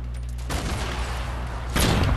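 Rapid bursts of gunfire in the video game Fortnite, a dense rattling fusillade that continues steadily and swells louder near the end, with no voices over it.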